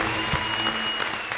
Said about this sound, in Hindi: जोरदार तालियां हेलन जी के लिए।